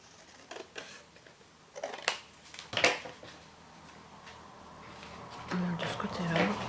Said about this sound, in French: Je vais retailler mon bout de papier là.